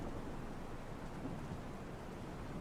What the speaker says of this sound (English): the louder the pounding of rain and the howling of wind becomes